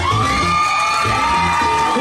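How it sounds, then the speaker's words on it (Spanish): A crowd aboard a yacht in San Andrés cheers and whoops for a dancer, lively shouting and yelling rising over sustained tonal music, close and loud throughout. "fuerte el aplauso al número uno"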